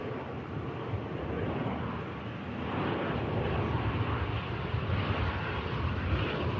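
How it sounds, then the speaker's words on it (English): A Loganair airliner arriving from Aberdeen approaches to touch down at Manchester Airport, its engines a steady, broad roar from a distance that grows slightly louder partway through, with no voices. "Here's the Loganair about to touch."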